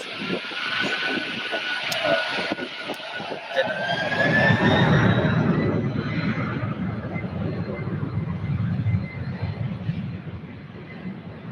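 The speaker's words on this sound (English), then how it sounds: "we will get this UPS 767 heading out" A UPS Boeing 767 rolls out for departure at Louisville airport. A rising turbine whine and clicks give way to a swelling broad jet roar that holds steady and loud, then eases slightly as it moves off.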